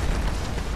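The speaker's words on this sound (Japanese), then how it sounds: "爆発が派手すぎねえか。" A loud, dense explosion blast roars from the Final Fantasy VII Remake video game, a brief broadband burst with no talking.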